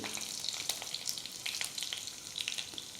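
Cumin seeds and dried red chilies frying in hot oil in a pan for a spicy moringa leaf stir-fry give a steady, soft sizzle with faint crackles and pops throughout.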